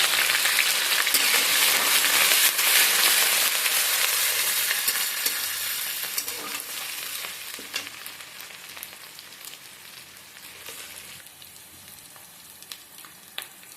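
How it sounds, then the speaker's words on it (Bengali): Onion and garlic fry in oil with chicken for a Bengali chicken and banana-flower curry, a loud hissing sizzle broken by stirring scrapes that slowly fades and thins toward the end. "পেঁয়াজ রসুন দিয়ে রান্না করছি আমি"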